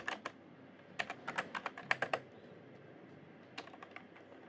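Quiet clicks of typing on a computer keyboard while entering network switch configuration commands, a quick flurry of keystrokes followed by a pause and a couple more taps, close and soft.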